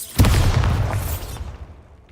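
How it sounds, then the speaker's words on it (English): Bombarda blasting spell in Hogwarts Legacy going off as a single close, heavy boom with a rumbling tail that fades over about two seconds. "Bombarda."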